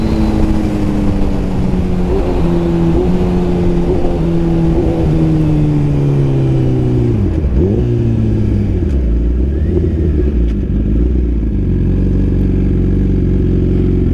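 A 2021 Suzuki GSX-R1000R sportbike fitted with a Brocks full exhaust rumbles loudly and steadily at close range, its pitch sliding down through a long deceleration before settling into a low, even drone.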